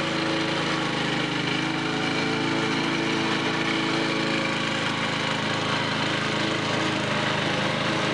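Petrol lawn mower engine running steadily and loudly throughout, a continuous close drone with no breaks during backyard yard work.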